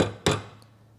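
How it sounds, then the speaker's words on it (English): A hammer lightly tapping a Magura hose barb into a bicycle brake line, one sharp close metallic tap with a quick second rebound, then a faint small click afterward. "you just use a hammer instead"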